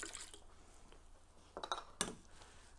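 Soda water poured into a mocktail glass over ice, a faint fizzing trickle with a few sharp clinks of ice and glass, close but quiet.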